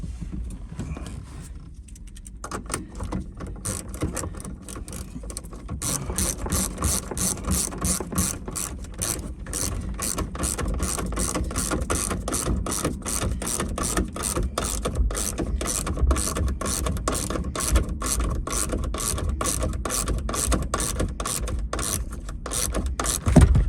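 A ratchet tightens a nut on the rear shock absorber of a first-generation Renault Twingo, giving a close, rapid, steady run of metallic clicks that continues for over twenty seconds with only a brief pause early on.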